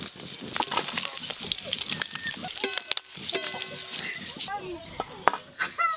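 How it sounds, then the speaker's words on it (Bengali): Small puti fish frying in hot oil in a home kitchen, a soft crackling sizzle with scattered spatters and utensil clicks beneath a person talking. "এই পুঁটি মাছগুলো সব ভালো করে ভাজা হয়ে গেল"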